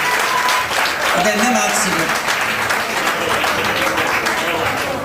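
Live audience applause at a stand-up comedy show in Rome, a steady broad wash of clapping filling the room with a performer's voice speaking over it.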